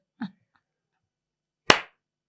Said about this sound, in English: Claps once.